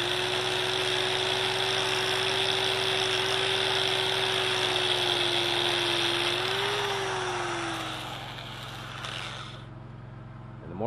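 Stick welding a flat fillet weld with a 7018 rod: a steady crackling arc hiss with a constant machine hum runs for about nine seconds, then stops abruptly, leaving quiet.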